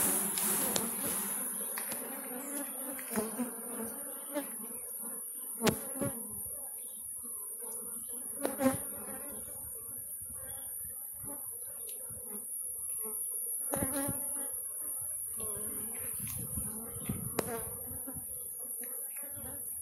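Honeybees (Apis) buzz steadily around opened hives during a harvest and inspection, a constant close drone with occasional louder passes of individual bees near the listener.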